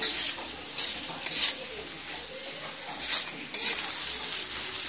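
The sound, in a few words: frying bitter gourd and potato with spices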